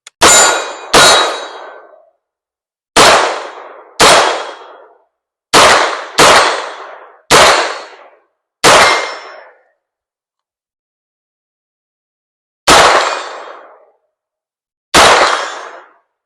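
Nine sharp metallic clangs from Blade 6 air rifle shots striking steel targets out in the woods at 65 yards, spaced irregularly with ringing decays and long silent gaps, loud and without voices.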